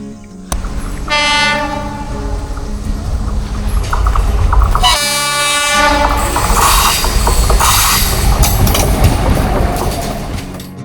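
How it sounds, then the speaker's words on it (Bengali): A train in the Dooars forest near Lataguri sounds its horn in two long harmonic blasts while its cars rumble and roll past loudly, with faint wheel squeal and no voices. "আর দূরে ট্রেনের হুইসেল।"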